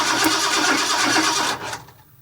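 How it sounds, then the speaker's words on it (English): A 1958 Ford F100 engine cranks over steadily on the starter with its coil removed, a loud, continuous churning drone that cuts off near the end and falls to near silence. "Nick's going to crank it for me here in a second."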